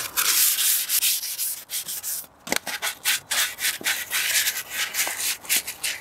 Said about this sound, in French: je vais poncer pour éviter, pour retirer tous ces petits chocs